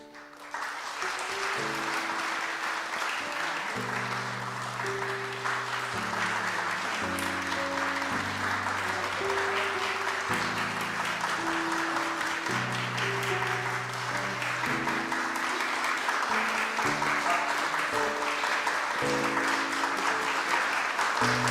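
A church congregation at a Sunday service in Korea applauds steadily and warmly, sustained clapping that fills the room while soft instrumental music plays beneath it.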